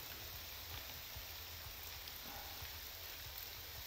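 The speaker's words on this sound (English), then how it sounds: "It is not a sand or ash storm, but instead it is raining." Rain falls in the town of Ald Ruhn in the video game Morrowind, a steady, even hiss of drops that stays faint and constant throughout.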